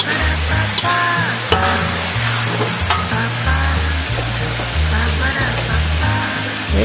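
Dried soy bean sticks (fuchuk) being stirred and fried in a pan with seasoning, a steady loud sizzle with scraping stirs running throughout over a background of music.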